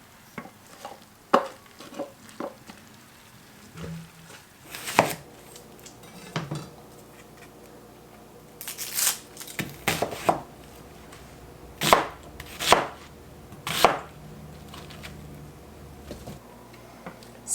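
Plums and onions chopped with a knife on a cutting board: irregular sharp chops, close and distinct, spaced out with quiet gaps, plus a few clinks of dishes.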